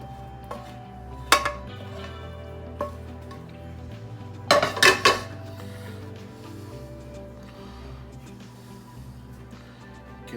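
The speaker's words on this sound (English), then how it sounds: "Now you're going to want to put in your spinach and your mushroom mixture." Spinach and mushroom mixture spread into a baking dish for baked pasta, giving a few sharp clinks and scrapes of utensil on dish, with a cluster of knocks midway over a quiet background.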